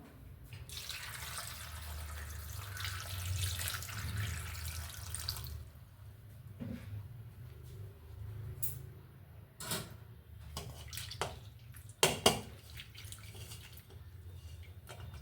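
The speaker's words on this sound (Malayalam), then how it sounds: "നമുക്കതിന് നല്ല വെള്ളത്തിൽ, തിളപ്പിച്ചാറിയ വെള്ളത്തിൽ കഴുകാം" Grape leaves are rinsed in boiled, cooled water after soaking with turmeric: a steady rush of running water for several seconds, then quieter splashing with scattered drips and clicks from handling, faint and without talk.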